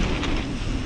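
Wind gusts across a mountain bike park trail, buffeting the microphone with a steady, broad rushing roar for a brief moment.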